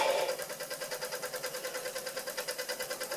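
A Doll 320/3 toy steam engine, freshly repaired and painted, ticks over steadily on its first steam, giving an even, rapid rhythmic chuffing pulse close by, with a faint squeak from the pulley shaft.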